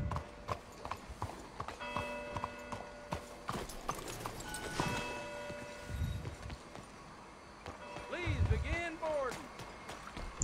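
Horse hooves clip-clopping at a rodeo-themed show, a clear rhythmic clatter of shod steps with other noises around it, and voices speaking over parts of it.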